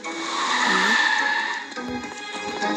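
A vehicle in the PK XD video game, a motorcycle, whines with a steady high engine tone that shifts in pitch, then gives way to scuffing, skidding noises near the end.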